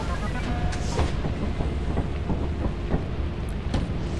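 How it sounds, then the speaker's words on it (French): Rain begins in the video game Lethal Company as a dense, steady hiss that fills the scene, with scattered faint ticks and a low rumble underneath throughout. "Ah, les conditions ont changé, maintenant il pleut."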